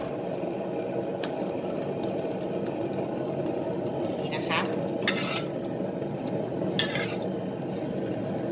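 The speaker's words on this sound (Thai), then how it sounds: "จากนั้นนะคะก็จะใส่ หอมใหญ่ลงไปผัดให้หอมเลยนะคะ" Sliced onion stir-fries in fried-shallot oil in a pan for pineapple fried rice, a dense steady sizzle broken by a few bright scraping and clinking strokes of a utensil against the pan.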